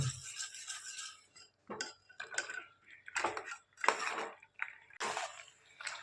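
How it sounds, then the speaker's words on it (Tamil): A spoon stirs cooked pasta into sauce in a home pan, giving irregular close clinks and scrapes against the metal in short bursts with brief pauses between. "இப்போ நான் பாஸ்தாவை மிக்ஸ் பண்ணுறேன் சாஸில்"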